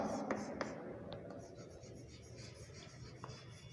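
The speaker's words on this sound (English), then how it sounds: "Let's write first." Light scratchy strokes of writing during a tenth-grade science lesson, a few sharp taps among soft rubbing, quiet and close, with no clear speech.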